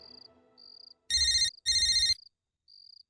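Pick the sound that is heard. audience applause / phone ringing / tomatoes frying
phone ringing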